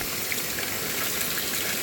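Steady rushing of water pouring into a washing machine on a deep-fill setting, a continuous broadband gush with no pauses, fairly close and even in loudness throughout.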